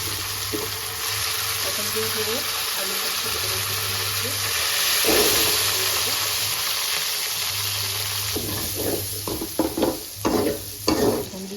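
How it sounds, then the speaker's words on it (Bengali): Potatoes frying and being stirred in a pan for a chicken liver and gizzard curry, a continuous hiss with scraping stir strokes and a louder burst of clattering near the end. "এখান দিয়ে আমার আলু ভাজা হয়ে গেছে"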